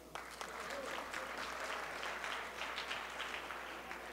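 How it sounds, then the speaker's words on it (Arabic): Guests clap at a wedding celebration, a steady crowd of hands beating for several seconds, fairly distant and even in loudness, with voices mixed in beneath the clapping. "صفقوا يا رجيجين"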